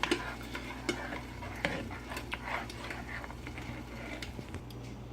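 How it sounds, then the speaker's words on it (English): Hollandaise sauce being stirred in a pot on medium heat, a spoon scraping and clinking against the metal in steady strokes over a soft simmering sizzle, close and moderately quiet. "And we're going to stir that in really well."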